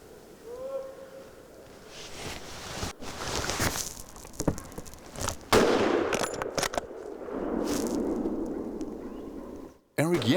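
Rifle shots at a wild boar hunt in Hungary ring out as a few sharp cracks amid rustling movement and outdoor noise, with people talking.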